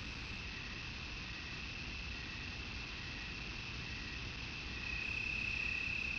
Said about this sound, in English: There's nothing but crickets and frogs.